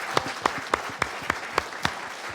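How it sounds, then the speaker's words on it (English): At a tribute to Walter J. "Doc" Hurley, sharp, evenly spaced claps ring out nearby, about eight in a steady rhythm, standing out over a soft, thin backdrop of applause. "So if we could give him another round of applause."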